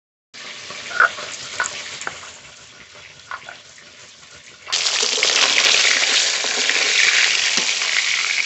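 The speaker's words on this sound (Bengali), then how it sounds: "মাছ খুব ভালো করে ভেজে নিয়েছি, নামিয়ে নেব।" Tilapia fish frying in hot oil, a steady crackling sizzle with occasional pops that swells sharply louder and denser partway through and stays loud to the end, with no talking.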